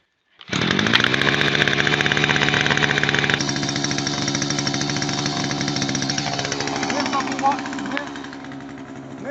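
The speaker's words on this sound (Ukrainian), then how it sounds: "Вона вже добре крутиться, тому заслонку відкриваємо, вімкнено і заводимо." A petrol brush cutter, restarted after long storage, starts abruptly and runs with a loud, close, buzzing two-stroke engine roar, steady at high revs and then easing slightly to a lower rumble.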